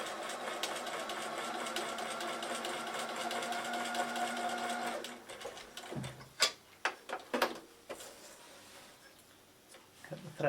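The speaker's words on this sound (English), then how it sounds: "stitch across your second square" A sewing machine runs steadily for about five seconds while stitching across quilting fabric squares for half-square triangles, then stops, followed by a few sharp clicks and handling sounds nearby.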